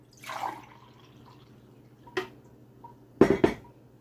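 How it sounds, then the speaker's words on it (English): Homemade Jamaican carrot juice, mixed with milk, cinnamon, nutmeg and overproof rum, is poured in the kitchen: a soft splash early, a sharp clink, then two close, loud bursts of liquid and glass near the end. "Pour it up."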